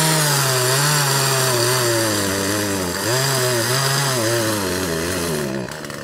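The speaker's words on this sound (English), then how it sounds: "We got Wayne out here on the chainsaw now." A chainsaw roars steadily while cutting into a rotten tree, the loud engine holding a constant pitch with slight wavering as the blade bites, close and continuous for several seconds.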